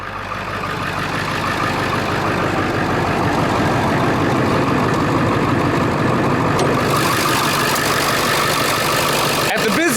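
A 7.3-liter Powerstroke 16-valve turbo diesel V8 in a 2001 Ford F250 Super Duty idles steadily with a loud, continuous clattering rumble, close by, with a brief clunk near the end.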